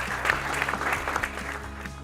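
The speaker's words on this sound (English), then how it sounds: "I just realized you might hear my slight clapping in my microphone" Slight hand clapping close to a microphone during an academic awards ceremony, a steady run of soft, rapid claps lasting about two seconds without a break.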